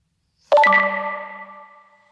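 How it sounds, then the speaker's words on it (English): A phone notification chime rings out once, a sharp bright electronic ding that rings on and fades over about a second and a half, loud and close in otherwise silent surroundings. "Sorry, I forget to turn off my notifications."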